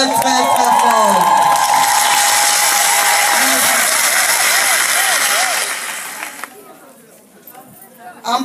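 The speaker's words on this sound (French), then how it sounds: "Applaudissez-vous très très très fort." Loud crowd cheering and ululating applause at a ceremony for an NGO president, a dense roar with high voices warbling over it, fading out toward the end before a brief return.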